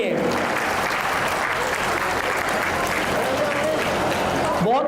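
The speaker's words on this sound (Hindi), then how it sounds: "मैं आपकी तालियों की आवाज़ रुकनी नहीं चाहिए।" A crowd at a community student-honors ceremony in Banswara keeps up dense, continuous clapping for a guest of honor. The applause holds steady throughout and ends with a brief voice at the close.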